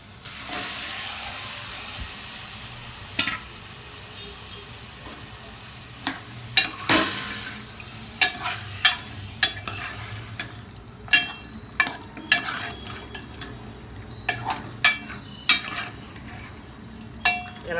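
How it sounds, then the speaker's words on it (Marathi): Chicken with ginger, garlic, coriander, turmeric and salt is stirred in a hot pan, a soft steady sizzle broken by frequent sharp scraping and clattering strokes of the spoon that grow busier toward the end. "याला चांगलं असं मिक्स करून घ्यायचं आहे"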